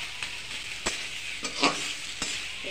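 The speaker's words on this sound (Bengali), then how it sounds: "এই কচু শাকটা ভাজতে সময় লাগে।" Taro (kochu) greens frying in a wok at home, a steady soft sizzle of hot oil with a few sharper crackles and stirring scrapes, close and alone with no talk.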